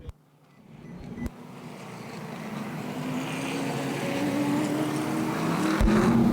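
ARCA/CRA Super Series race cars at Shady Bowl Speedway roar along the front stretch, the engine noise swelling steadily louder as the pack approaches.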